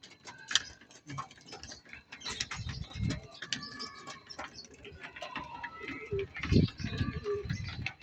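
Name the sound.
racing pigeons cooing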